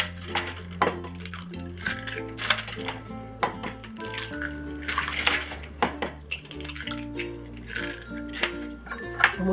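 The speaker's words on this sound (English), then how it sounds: "And lastly, we'll crack the eggs." Eggs are cracked into a bowl in a home kitchen for stir-fried eggs with BBQ pork and peas. Sharp taps and clinks against the bowl mix with dish clatter and a low hum, with no talking.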